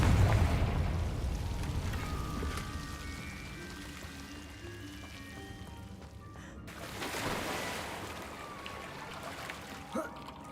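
In Hogwarts Legacy, the Confringo fire spell explodes with a loud, rumbling burst at the start, trailing into crackling debris. A second, sharper blast lands midway, followed by fainter fizzing.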